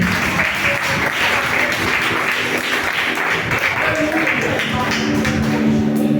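A large church congregation claps loudly and continuously, with a dense steady applause that fills the room from start to finish.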